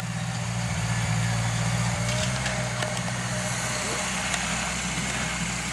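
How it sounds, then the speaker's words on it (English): A Ford 8N tractor sits idling outdoors on worked ground, a low steady engine drone with a constant throb, moderately close, while a few faint clicks and knocks sound over it. "the tractor I'm on right now, sitting on, is a Ford 8N"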